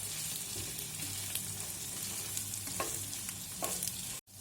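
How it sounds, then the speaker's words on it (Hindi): An omelette frying in a pan for desi-style cooking, with a steady close sizzle throughout, a low hum beneath, and a few brief scraping clicks near the end before a short drop to silence. "अब इन दोनों को ना अच्छी तरह पका लेना आपने"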